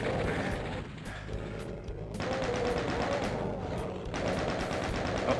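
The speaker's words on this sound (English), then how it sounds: "that's chain gunners that I hear" Chaingunner enemies in Doom 2 fire rapid, rattling machine-gun bursts in several stretches, fairly loud against a noisy game backdrop with brief pauses between volleys.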